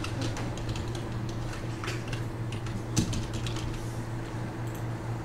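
Computer keyboard keys tap in small irregular bursts as AutoCAD commands are entered, faint against a steady electrical hum, with one sharper click near the middle.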